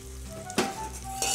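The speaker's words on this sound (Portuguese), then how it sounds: "agora o óleo já tá quente e a gente vai começar a fritar os nossos pastéis" Pastries made from sandwich bread fry one at a time in hot oil in a small pan, a close, continuous sizzle that jumps louder for a moment as the pastry drops in and again near the end.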